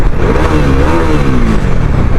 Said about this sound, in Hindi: डोमिनार का डबल बैरल एग्जॉस्ट जो है ना यार, ये बहुत बढ़िया साउंड करता है